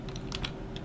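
Several quick keystrokes tap on a computer keyboard in a short, irregular burst, close and fairly quiet over a steady hum.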